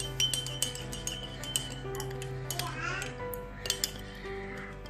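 A spoon stirring milk into mug cake batter, clinking and scraping against the mug in irregular taps and short swirls, close and fairly quiet over a faint background hum.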